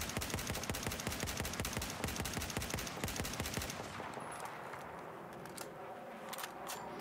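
Rapid sustained automatic weapon fire in Battlefield 4, a dense loud stream of shots for several seconds that stops abruptly, followed by quieter scattered distant gunfire and ambient game noise.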